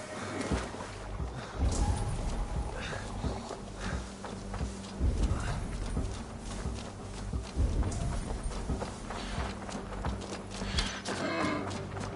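Horse hooves in the video game Assassin's Creed Valhalla clop unevenly amid lowing cattle and general farmyard noise, a busy, layered scene with animal calls over the footsteps.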